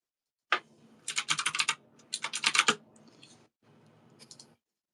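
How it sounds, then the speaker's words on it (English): Fast typing on a laptop keyboard, close and fairly loud, with bursts of rapid key clicks separated by short pauses and no talking. "why isn't my laptop keyboard working?"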